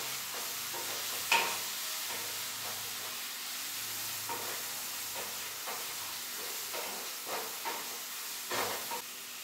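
Spices with Kashmiri chilli powder being stir-fried in a pan for chicken kasha: a steady hissing sizzle with occasional soft spatula scrapes and one sharper clink, close and moderately loud, no talk.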